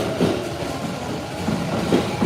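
Steady rumbling wash of a train rolling along rails, continuous and fairly loud throughout with broadband noise and faint low clatter, no voices.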